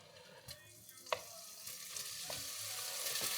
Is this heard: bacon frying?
yes